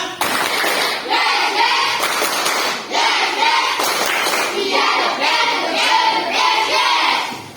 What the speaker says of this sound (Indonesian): Mari untuk meningkatkan semangat kita tepuk semangat.